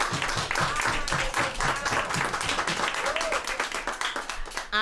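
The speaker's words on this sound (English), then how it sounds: "give this man the applause that he deserves" Open mic audience at a poetry cafe breaking into sustained applause, dense clapping from many hands that stays loud and steady throughout, with a few voices faintly mixed in.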